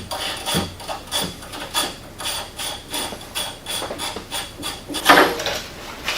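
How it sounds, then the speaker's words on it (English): Rhythmic metallic scraping and knocking strokes, steady and close, as a tool works the shock spring adjuster nuts loose on a Polaris RZR S while fitting a RacerTech dual-rate spring; no talking. "I want to go ahead and loosen my adjuster nuts."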